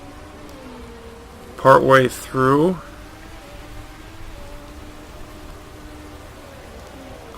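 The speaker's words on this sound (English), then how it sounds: "Then here comes the rain again." Steady rain hiss in the racing management game Motorsport Manager, a continuous wash of noise running under the whole stretch, with a brief burst of speech early on.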